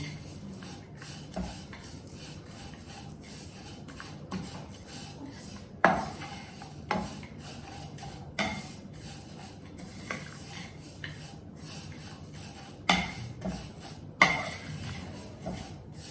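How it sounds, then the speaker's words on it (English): A spoon scraping and clattering in a pan as goda masala spices are stirred quickly over high heat, with irregular sharp knocks and a faint sizzle underneath. "Now I'll keep it on high and stir it quickly."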